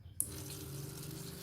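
A small Arduino-controlled pump sends water pouring into a bottle, a steady close running-water sound that starts abruptly and continues evenly.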